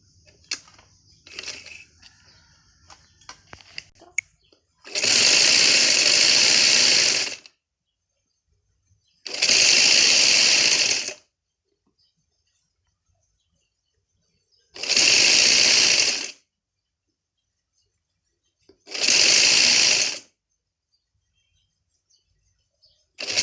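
A sewing machine stitches the side seams of a kurti in four separate bursts of rapid, even whirring, each lasting about two seconds and split by quiet pauses, after some faint handling noises at the start.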